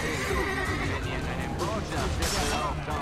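A horse neighs in the video game Assassin's Creed: Brotherhood, a clear whinny amid game noise and fighting sounds, with someone talking over it.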